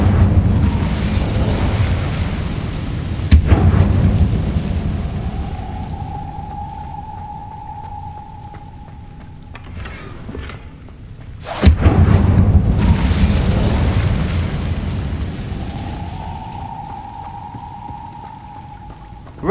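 Incendio fire spell cast in Hogwarts Legacy inside the Undercroft, two deep booming whooshes about eight seconds apart, each a sharp loud onset followed by a roaring rumble that fades, with a sustained tone after each one.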